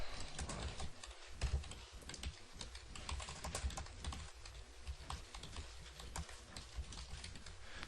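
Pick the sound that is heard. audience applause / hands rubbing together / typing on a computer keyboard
typing on a computer keyboard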